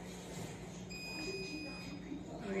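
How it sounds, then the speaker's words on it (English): A kitchen timer beeps during pecan pie bar preparation, its steady tone held for about a second over ongoing kitchen sounds. "left my timer on"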